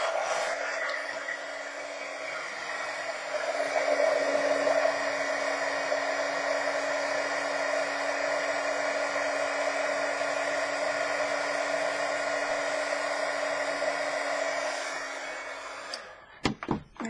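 An embossing heat gun blows a steady, loud, whooshing hiss over a handmade card for about fifteen seconds, then cuts off, followed by a few close clunks and knocks.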